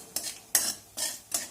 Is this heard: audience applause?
no